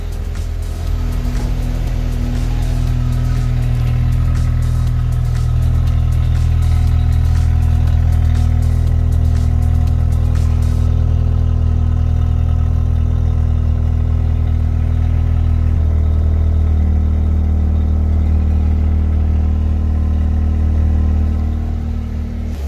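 A car engine idles steadily at the exhaust, a deep continuous rumble with light clatter, loud and close, holding an even note throughout with a slight drop in tone partway.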